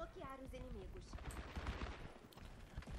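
Rapid gunfire from a video game crackles in dense bursts through the whole stretch, with a game sound effect and muffled voice-like noise layered over it.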